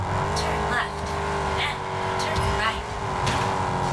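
A rival player's car in the racing game Test Drive Unlimited Solar Crown passes by with a loud engine roar and brief tire squeals, mixed over steady road noise and game sound.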